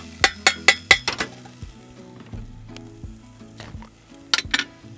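Minced garlic hits a hot pan while a rib fillet cooks. Several sharp utensil clinks come first, then a low sizzle, with a few more metallic taps near the end.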